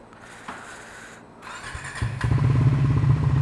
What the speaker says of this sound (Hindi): बाइक को देते हैं अच्छा सा कोल्ड स्टार्ट।